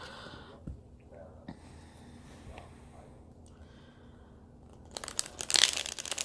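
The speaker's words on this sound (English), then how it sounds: "I'm gonna shuffle 3 times, and then we're going to cut the deck" Tarot cards riffle and crackle in a quick, loud burst near the end, after quiet rustling and a couple of soft taps.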